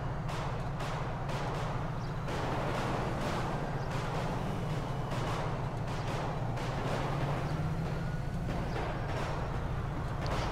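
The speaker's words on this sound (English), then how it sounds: "You hear the shooting coming from the gun range." Repeated gunfire from a gun range in Grand Theft Auto V, a steady stream of muffled shots popping at a distance over a constant low engine rumble.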